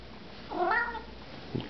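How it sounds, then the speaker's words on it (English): An old cat lets out a single short meow close by in a quiet indoor setting, followed by a faint soft thump. "there's my old cat putting his 2 cents worth in"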